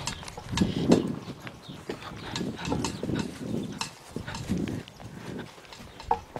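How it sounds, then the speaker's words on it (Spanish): Horse hooves clip-clop unevenly on the ground at a castle, close and fairly loud over a faint outdoor background, with a brief shout near the start. "pues nos hemos metido con el caballo."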